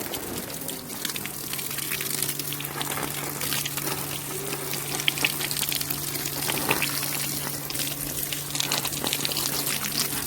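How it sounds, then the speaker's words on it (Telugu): Water gushes steadily onto garden plants such as henna in a continuous, splashy pour lasting around ten seconds, with a low steady hum beneath it and no voices. "ఇటువంటి మొక్కలకి వాటర్ అయితే పోస్తున్నాను"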